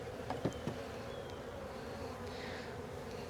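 Honeybees buzz steadily around an open beehive during a frame inspection, a dense, continuous insect hum close by with a few brief, louder passes near the start.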